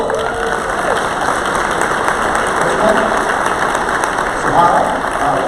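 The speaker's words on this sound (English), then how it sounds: "Give her a round of applause, please." Applause from a conference audience, a moderate bed of many hands clapping mixed with crowd murmur and scattered cheers, with a steady background hum and some voices underneath.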